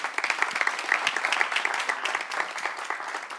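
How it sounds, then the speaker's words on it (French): Crowd applause at a French-language public street show as a woman walks up, continuous patter of clapping at moderate loudness with faint voices underneath. "On peut l'applaudir pendant qu'elle arrive."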